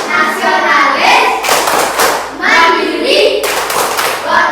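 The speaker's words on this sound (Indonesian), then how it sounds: "Luar biasa, tepuk tangan." Schoolchildren in an Indonesian primary classroom clapping hands in bursts of rhythmic claps, loud and close, alternating with voices chanting together.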